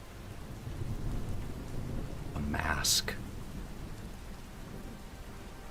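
Rain and thunder form a steady, hissing storm bed, with a louder swell and crackle in the middle, while a voice narrates softly over it.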